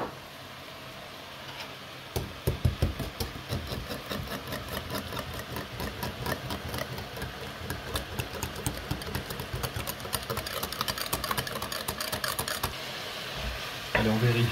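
A leek and chard mixture seasoned with salt, pepper and herbes de Provence is stirred in a pan, repeated close scraping and shuffling strokes over a soft sizzle.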